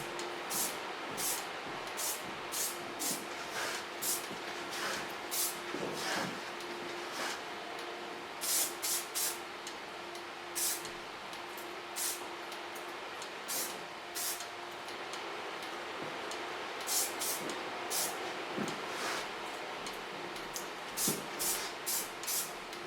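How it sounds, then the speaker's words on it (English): Short puffs from a can of ordinary hairspray mist over the top of long hair in a salon, a series of quick hissing bursts at varying intervals over a steady background hum. "I take a normal hairspray, not too much, just a little bit, and only on top"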